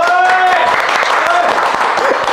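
Applause for a student on an economics podcast set, a short burst of close clapping heard with voices speaking over it throughout.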